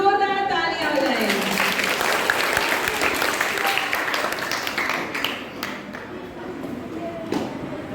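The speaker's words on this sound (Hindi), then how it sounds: "जोरदार तालियां बजाएं" Loud applause from a school audience at a quiz event for girl students of classes 6 to 8, sustained dense clapping with some voices mixed in, filling the whole stretch.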